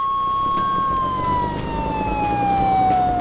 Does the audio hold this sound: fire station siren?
yes